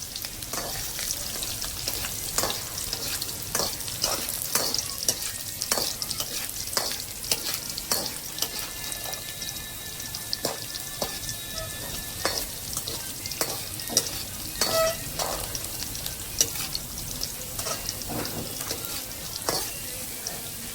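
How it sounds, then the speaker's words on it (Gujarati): Cumin, garlic, ginger and green chili sizzle steadily in hot oil for a Gujarati shark fish recipe. A continuous close hiss of frying runs throughout, broken by frequent scraping stirs, with faint tap-water sounds in the background. "તેલ ગરમ થઈ ગયું છે, એમાં નાખ્યું છે જીરું, ત્યારબાદ લસણ અને મરચું"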